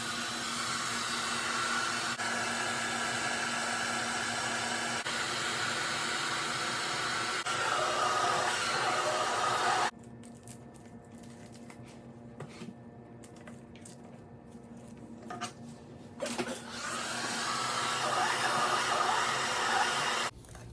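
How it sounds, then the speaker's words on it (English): A blow dryer heat-shrinking plastic wrap on a canvas head runs steadily with a loud whooshing hum, cuts off briefly to quieter crinkling and handling noises, then starts blowing again. "we're gonna use our blow dryer to shrink wrap it"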